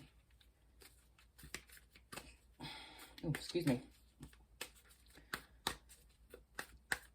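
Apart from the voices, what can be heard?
shuffling oracle cards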